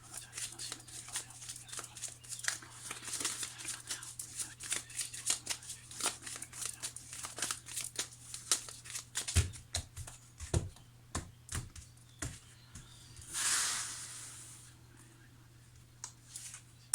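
Tarot cards being shuffled and handled for a reading, a long run of crisp slapping and riffling card sounds with a brief swishing sweep near the end, close up and with no voices.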